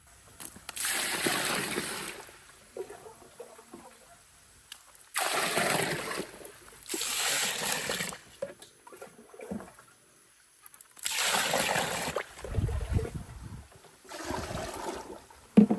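Water sloshes and splashes in bursts as 46-0-0 and 16-20-0 fertilizer is dissolved before being poured into a drum. There are three loud surges separated by quieter gaps, close by and with no voices.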